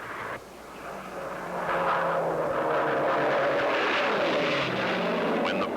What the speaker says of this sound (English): To enter, an airplane must have a propeller and a piston engine.